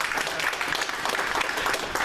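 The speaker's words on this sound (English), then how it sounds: "Let's give his son a round of applause" Audience applause for a guest's young son at a network marketing event, a short dense burst of clapping from a crowd, steady and alone.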